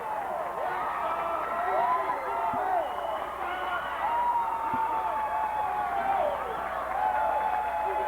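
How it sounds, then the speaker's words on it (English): A crowd roars and cheers at a 1992 high school boys basketball game, Unity at Grantsburg, a steady din filling the gym while an announcer talks over it. "Listen to the crowd."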